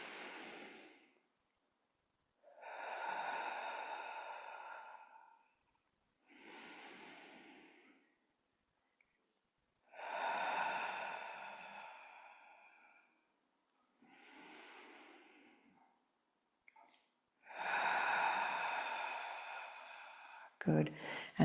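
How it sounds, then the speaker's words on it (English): Slow, deep breaths in and out during a TRE and Pilates movement therapy session, each long airy inhale or exhale separated by short pauses, close and fairly loud with no talking. "inhale, exhale."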